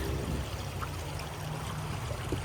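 Water flows steadily in a close stream on the Appalachian Trail, a constant gurgling rush with small splashes and trickles, no voices.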